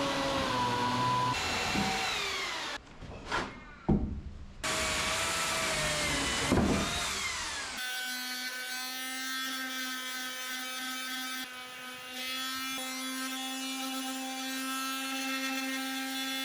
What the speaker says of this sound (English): let's get out the electric chainsaw and cut off the end